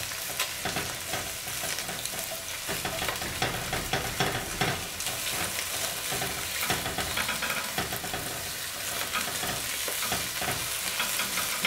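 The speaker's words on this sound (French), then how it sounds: "pour faire revenir nos oignons dans un peu de matière grasse" Chopped onions frying in a little fat in a pan, a steady loud sizzle and crackle with repeated stirring scrapes throughout, no voices.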